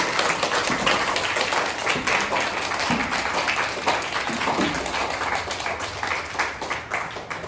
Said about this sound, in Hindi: बच्चों एक बार सभी तालियों के साथ सबका स्वागत करें